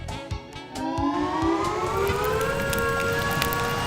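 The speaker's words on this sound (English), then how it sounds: "Sounds like a tornado siren" A wailing tornado siren rises in pitch and holds a steady, loud tone, with patter of rain and scattered thumps in the background.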